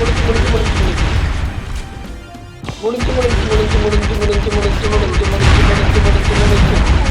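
Explosion in the video game Killer Bean Unleashed: a sharp burst cuts through dense, continuous game noise and gunfire-like clatter. A player talks over the loud action.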